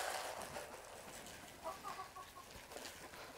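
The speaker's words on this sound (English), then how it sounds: "all the chickens are put back where they need to be." Backyard chickens clucking softly and intermittently at a moderate distance, with a steady outdoor background and no talking.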